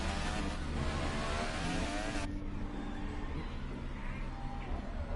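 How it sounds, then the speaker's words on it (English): A McLaren Formula 1 car in the F1 2018 racing game, its engine a faint, steady high drone that shifts pitch partway through, heard alone at low level. "That McLaren sound ominous."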